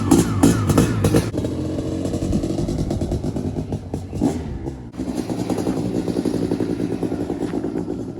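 A CR500 dirt bike engine is revved up close in loud, ragged bursts with clattery two-stroke crackle, with brief dips between throttle blips.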